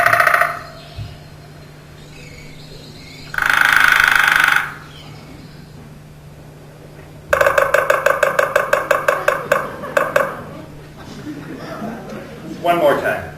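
Short bursts of chirping song alternate with quiet gaps; a rapid trill of repeated notes in the middle, plus a few scattered calls near the end.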